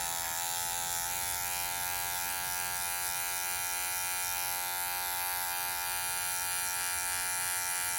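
Electric hair clipper buzzing steadily and close during a taper haircut, a constant motor whine with a bright high hum running without pause or talk.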